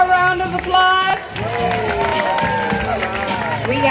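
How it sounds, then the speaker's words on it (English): An audience at a school word parade applauds grade 4 with steady clapping and cheering under a speaker's amplified voice, which carries over the noise throughout. "Let's give grade 4 a round of applause"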